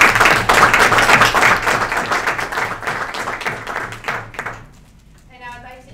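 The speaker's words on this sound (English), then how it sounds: "Please join me in giving them a big round of applause" Audience applause at a STEM speaker series lecture, a loud, close burst of many hands clapping that gradually tapers off over about four seconds, followed by a brief voice.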